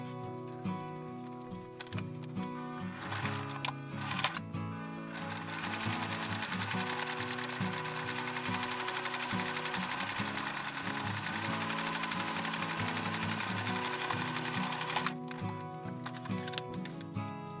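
A sewing machine runs in a steady stitching whir while sewing a seam on small gnome jeans, with short starts and stops at the beginning and end.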